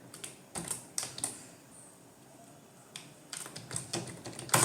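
Soft, close clicks of a computer keyboard as Python code is entered, typed in short bursts with quiet pauses between them in a hushed room.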